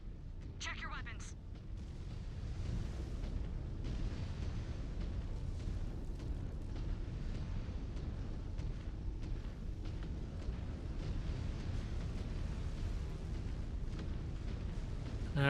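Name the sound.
artillery strike explosions in video game MechWarrior 5: Clans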